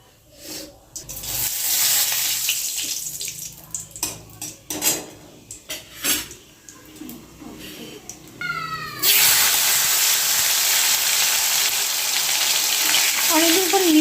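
Marinated meat cooking in a pan: first scattered clinks and clatter of utensils and cookware, then a loud, continuous sizzle bursts in partway through and holds steady to the end.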